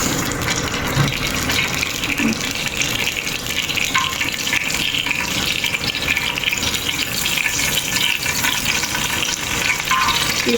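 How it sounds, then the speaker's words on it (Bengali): Raisins fry in a little oil in a pan, giving a dense, steady sizzle that runs loud and close for the whole stretch, with no voices. "হালকা একটু তেল দিয়ে দিলাম আমি কিশমিশগুলো বাজার জন্য"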